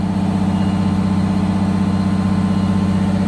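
A Detroit Diesel engine with a blower-driven tach drive runs steadily at about 1,000 RPM, a loud, constant droning hum with no change in pitch and no talk over it.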